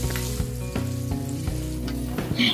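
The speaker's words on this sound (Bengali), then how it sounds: "এবারে এটাকে আমি লো ফ্লেমে কন্টিনিউয়াসলি নাড়াচাড়া করে ভেজে নিচ্ছি" Ginger and green chilli paste with black cumin and asafoetida fries on low flame while being stirred, a close steady sizzle broken by several sharp clinks and scrapes of a spoon against the pan.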